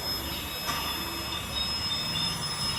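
An EMF meter beeps nonstop with thin, high electronic tones that hold steady throughout, broken by a brief click partway through and backed by a faint hiss.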